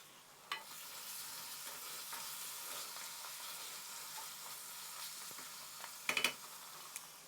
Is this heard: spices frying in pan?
yes